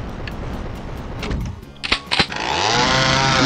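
A chainsaw in Classic Doom sputters and then revs up into a loud, sustained engine whine after a few sharp mechanical clacks, dominating the end of the moment.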